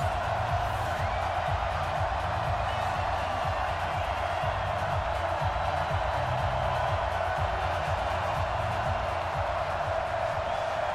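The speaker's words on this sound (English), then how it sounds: "this crowd enthusiastically cheering on their Texans as they emerge from the locker room" A stadium crowd in an NFL video game cheers steadily as the Houston Texans emerge from the locker room, a dense continuous roar with no distinct peaks.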